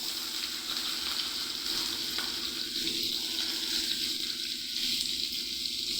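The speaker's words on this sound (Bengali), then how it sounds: "এখন কড়াইতে তেল দিয়ে দিয়েছি, তেলটা গরম হয়ে গেছে। এখন পেঁয়াজ কুচি দিয়ে দেব।" Chopped onion frying in hot oil in a wok, a loud continuous sizzle with light stirring, close and steady throughout.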